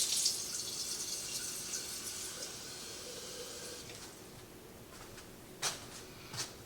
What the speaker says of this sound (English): I'm giving them a good little drink of water here to start them out.